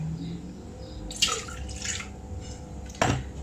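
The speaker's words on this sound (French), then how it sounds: "Nous allons mettre nos liquides, donc l'eau," Water and milk are poured in to start a yeast starter for flaky brioche dough, heard as a few short splashy dribbles and trickles against a quiet background.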